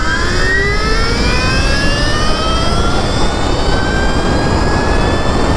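A Sur-Ron electric dirt bike fitted with street wheels accelerating at full throttle: a loud, steadily rising electric motor whine over constant wind and tyre rush, sustained throughout.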